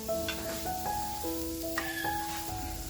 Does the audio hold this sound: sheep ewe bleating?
no